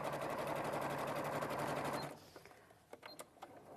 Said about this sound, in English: and then give you a really nice top stitch